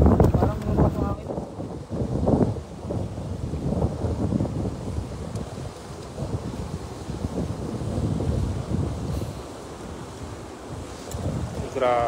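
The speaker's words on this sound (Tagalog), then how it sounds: "Parang lumpas ang hangin." Strong wind rumbles across the microphone outdoors at a fishing spot by the water, a steady gusty roar with faint splashing, alone without clear speech.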